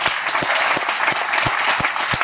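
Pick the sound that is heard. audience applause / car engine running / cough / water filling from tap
audience applause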